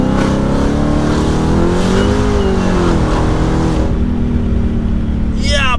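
A 935 HP Dodge Hellcat with 1200 Nm of torque accelerates hard, its loud engine note rising and falling through the revs and then dropping away, with a short tire squeal at the end.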